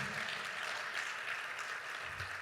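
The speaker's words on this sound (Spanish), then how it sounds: "Aplaudan fuerte si lo creen de veras." A church congregation claps during a sermon, a soft, steady wash of applause heard faintly and from a distance, with no speech over it.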